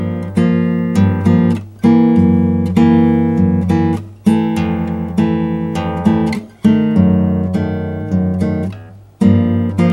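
Bossa nova guitar rhythm, opening with two eighth notes and then a syncopated variation, carried through a chord progression; crisp plucked chords and bass notes repeat in a steady pattern, close up, with no voices.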